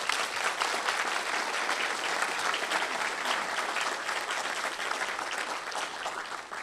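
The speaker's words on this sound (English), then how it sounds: "Give them a round of applause, please." An audience at a lecture in the Booth Western Art Museum gives sustained, dense applause that fills the room evenly from start to finish without a pause.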